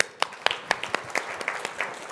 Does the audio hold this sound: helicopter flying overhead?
no